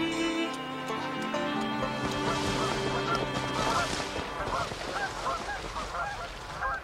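A group of Canada geese honking in the wild, loud overlapping nasal calls at fairly close range that grow busier and more scattered as the clip goes on.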